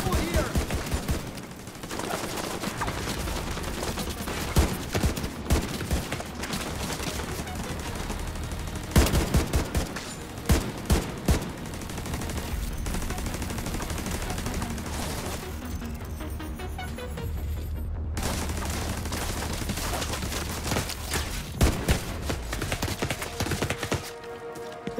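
Dense gunfire from The Division 2 PC beta in a PVE battle over a control point: rapid, overlapping shots and automatic bursts go on steadily throughout, loud and close, with a few sharper cracks standing out.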